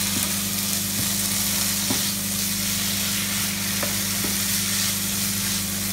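Prawn masala with chopped tomato cooking in a pan over a medium flame, a steady loud sizzle and hiss with occasional stirring clicks throughout.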